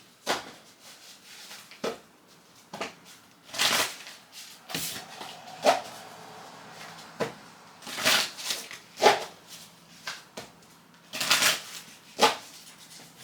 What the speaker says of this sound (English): Let me go ahead and do a quick shuffle.